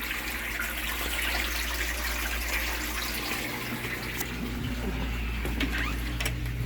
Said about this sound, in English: you can see how it's pumping real hard though, because it actually has a pump that's doing the work